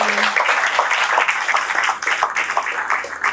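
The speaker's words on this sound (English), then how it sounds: "Please a round of applause again." An audience applauds a speaker at the close of an etiquette and public speaking session, sustained dense clapping filling the room, fairly loud and continuous, with a few voices mixed in.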